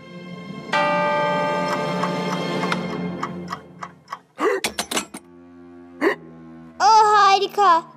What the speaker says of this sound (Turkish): Bu sevimsiz hıçkırık nasıl geçer?